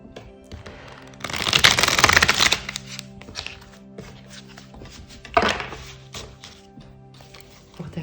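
Tarot cards are shuffled by hand during a card reading, a dense riffling burst near the start followed by a shorter flurry later, close and fairly loud with softer handling sounds between.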